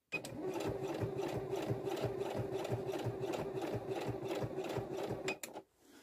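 Sewing machine stitching fabric slowly, a close, steady mechanical chatter of rapid needle strokes with a faint motor whine that runs evenly for several seconds before stopping abruptly, with no speech.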